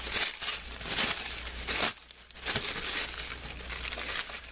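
Saran plastic wrap crinkles loudly and close up as it is pulled off a knife package, in irregular bursts with a short pause partway through.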